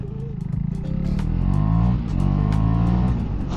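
A KTM Duke 390 motorcycle with an Akrapovic exhaust warming up, its engine idling near and loud with a rough, steady rumble, rising in a few revs before settling.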